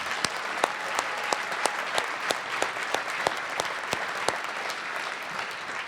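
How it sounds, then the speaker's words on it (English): Steady audience applause fills the room, dense clapping with a few sharper claps standing out, continuing evenly throughout. "Can we give Christian a round of applause?"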